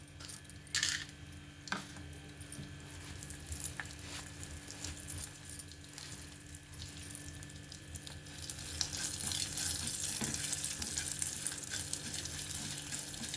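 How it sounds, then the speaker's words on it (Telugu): Half a spoon of ghee sizzles steadily as tempering spices like mustard seeds, cumin and lentils hit the pan, a continuous crackling fry with scattered pops and small clinks, growing slightly louder toward the end with no voices. "పోపు దినుసులు వేసాను."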